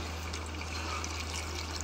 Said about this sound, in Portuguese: Agora eu coloco água,